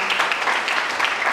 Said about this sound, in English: Let the applause keep on happening.